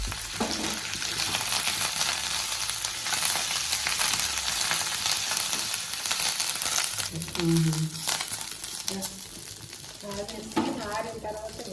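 Dense, crackly sizzling of curry leaves frying in oil, loud and close, with stirring noises and a few brief voice fragments toward the end.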